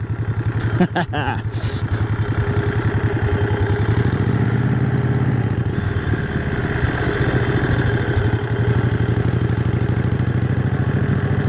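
A 1951 Harley-Davidson EL Panhead motorcycle engine running, a loud, steady, throbbing mid-pitched rumble close by, with a few brief mechanical clanks near the start.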